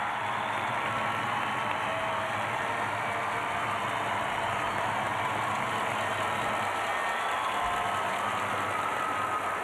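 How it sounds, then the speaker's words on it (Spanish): An audience at a beauty pageant in Saltillo, Mexico, applauds with a dense, even wash of clapping that holds steady and fairly faint throughout. "Por favor, otro aplauso más."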